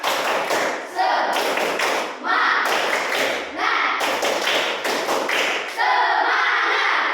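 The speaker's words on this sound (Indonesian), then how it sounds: "Coba tepuk semangatnya dulu. Tepuk semangat." A class performs a rhythmic patterned 'tepuk semangat' clapping routine, loud dense bursts of claps in a steady sequence alongside voices chanting in unison.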